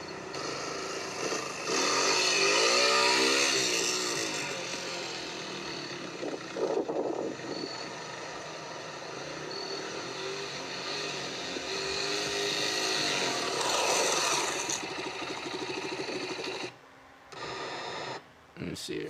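A motor vehicle engine gives a sharp pop followed by throttle revving that rises and falls in loud surges, a voice talking over it, with a couple of brief dropouts near the end.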